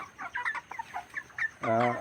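Several broiler chickens, about a month old, cluck and chatter close by in short, uneven bursts, ending with a louder drawn-out squawk.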